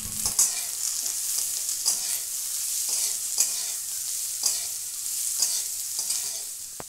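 Diced potatoes and onions fry in a pan, giving a steady high sizzle broken by regular scraping stir strokes about once a second, close and with no voices.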